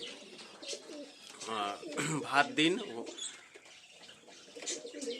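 Pet pigeons coo in soft, warbling bursts close by, overlapping with a person speaking, with a fluttery chirp or two between the calls.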